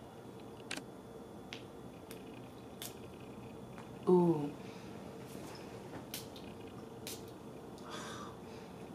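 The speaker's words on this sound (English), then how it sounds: "Now let's spray it." A KKW BAE fragrance bottle with a red nozzle gives one short, close spray burst in a quiet room, surrounded by small handling clicks, with a brief exclamation from a voice afterward.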